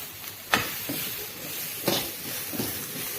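Grated coconut with shallots and ginger roasts on low flame in a pan, giving a soft continuous sizzle with two sharper scrapes of the stirring spoon.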